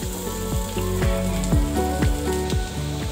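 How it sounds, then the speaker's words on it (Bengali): Beef spleen frying in a pan, a loud, continuous close sizzle with a rhythmic pulsing tick running through it and no voices. "এটাকে হালকা একটু ভেজে নিব।"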